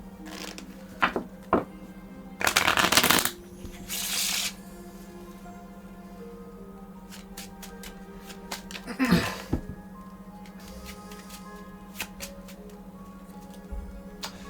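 Playing cards shuffled by hand during a magic trick, heard as a couple of short riffling bursts set against a steady low electrical hum, with light handling clicks in between.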